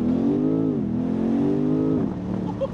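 A petrol car engine revs under acceleration, dips briefly and climbs again, then eases off near the end with a downshift throttle blip, heard steadily from inside the car.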